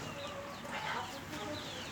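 Large hens and roosters on a poultry farm cluck softly at a short distance, a brief murmur of fowl sounds with a voice faintly mixed in.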